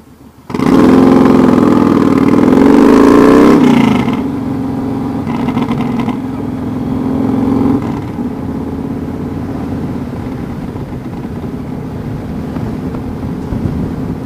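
A loud car engine with a raw, unmuffled exhaust revs hard, then settles into a steady, throaty drone close to the microphone, with wind buffeting.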